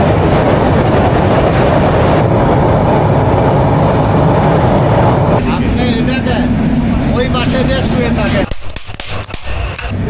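Banalata Express passenger train running from Dhaka to Rajshahi, a steady loud rumble of wheels and carriage noise throughout, with people talking over it and a rattling, clattering shift near the end.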